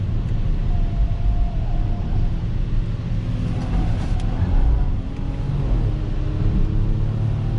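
Supercharged engine of a 2019 Audi Q7 pulling under acceleration, a deep, dense rumble with a steady drone, heard close inside the cabin and sustained throughout.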